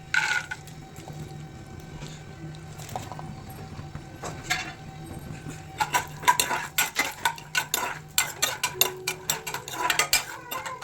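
Peanuts fried in hot oil in a pan, with a steady low hiss under repeated metallic scraping and stirring clatter that grows busier and louder in the second half.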